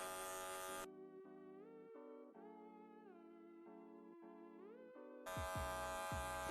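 Electric hair clippers run steadily while cutting a taper fade, a close, even motor buzz whose pitch shifts slightly as the lever is adjusted, with louder, harsher bursts at the start and end.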